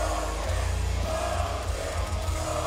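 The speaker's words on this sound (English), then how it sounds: "Crowd's not happy, Fred." A wrestling crowd at a Duke City Championship Wrestling show in New Mexico reacts unhappily, a steady, dense murmur of many voices with low rumbling swells filling the arena.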